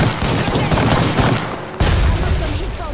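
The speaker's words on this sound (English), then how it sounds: "Getting shot at." Gunfire in Apex Legends, with loud rapid bursts of shots and dense automatic fire close by, a brief dip, then another sharp volley, and talk mixed in underneath.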